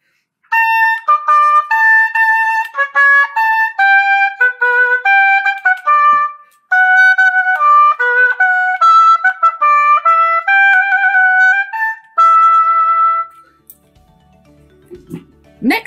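An oboe sounding through its double reed of two pieces of cane tied together, playing a clear, close melody of sustained and moving notes for about thirteen seconds before stopping.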